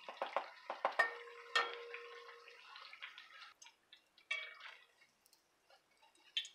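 Indian fry bread frying in a pan and being flipped, with scattered clanks and taps of a utensil against the pan over a faint sizzle, closing in quieter intermittent knocks.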